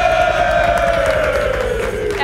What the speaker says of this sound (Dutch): applaus voor de kloondroon